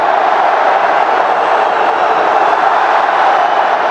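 A stadium football crowd roars steadily for a Cristiano Ronaldo step-over, a dense, even wash of cheering that stays loud and unbroken throughout, heard from within the stands with no distinct voices.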